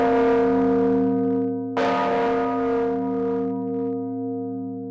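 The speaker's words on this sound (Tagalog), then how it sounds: "Gusto ko marinig yung tunog ng kampana." A large church bell struck once, a loud metallic clang over a long, sustained ringing hum that slowly fades.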